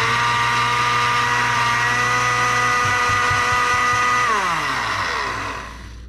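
An electric blender runs at full speed through ingredients for coconut shrimp, a loud steady whir with droning harmonics and brief rattles that drops in pitch and fades as the motor winds down.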